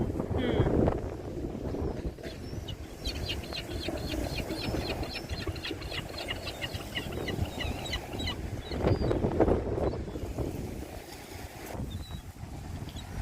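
Wind blowing by the sea at Deal, a steady rushing buffeting across the microphone for the whole stretch, with faint bird chirps in the background.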